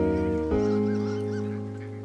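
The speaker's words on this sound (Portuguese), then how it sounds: "o estranho e meio irritante som de patos fantasmas à beira de" Nasal, honking ghostly duck calls by a lake in a video game sound repeatedly, layered over a steady low drone, fading slightly toward the end.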